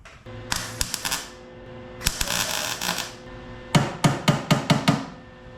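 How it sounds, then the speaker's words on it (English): Tack welds are laid on the bottom of a Porsche Boxster rocker panel during a crash repair. Sharp crackling bursts come in short clusters, ending with a rapid series of distinct close pops. "Maybe what I should do is get a few tacks here on the bottom."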